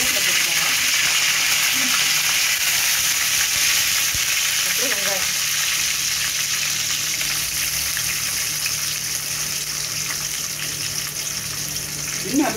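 Steady hot-oil sizzling and crackling of mustard seeds and fenugreek frying fills the whole stretch, with faint kitchen clatter now and then.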